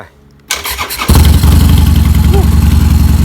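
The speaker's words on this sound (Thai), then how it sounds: "เดี๋ยวไปดูกันว่าจะสตาร์ทติดไหม" A motorcycle engine is started after sitting parked: quiet, then a clattering crank for about half a second before the engine catches and settles into a loud, steady close idle.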